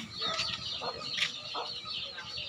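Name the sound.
chickens clucking while being fed in the afternoon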